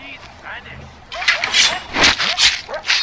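Dogs in Far Cry 4 bark and yip in a quick, close burst of repeated calls. A voice talks over part of it.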